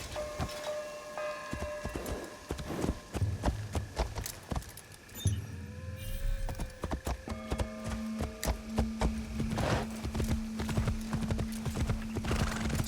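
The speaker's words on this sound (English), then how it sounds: "Okay, let's get the horse." A horse's hooves clip-clop in Assassin's Creed Shadows, steady repeated hoofbeats with a whinny and game ambience layered around them.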